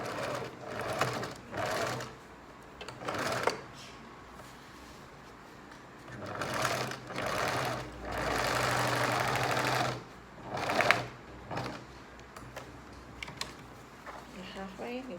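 A sewing machine stitches the lining of a small zippered pouch or pencil case in several bursts of rapid mechanical whirring, close and loud, with short pauses between runs.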